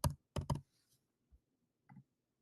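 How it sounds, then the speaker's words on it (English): Typing on a computer keyboard: a few quick close key clicks at the start, then sparse single taps after pauses, quiet and with no talk. "And you just kind of type the next name"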